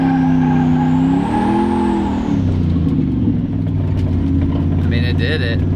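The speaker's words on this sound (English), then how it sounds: "I think we might go and try our first burnout." A modified 700 hp sleeper Volvo car revs hard during a burnout attempt, the engine note rising and falling in loud sustained pulls close by, with a brief squeal near the end.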